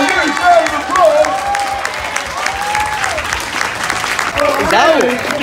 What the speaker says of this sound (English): Now, give a huge round of applause.